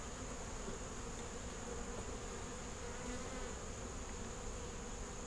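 Honey bees buzz steadily around a honey-bound hive outdoors, a faint continuous drone of many wings with no voices.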